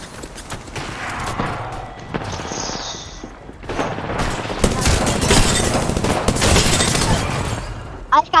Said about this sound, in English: Got sniped from across the map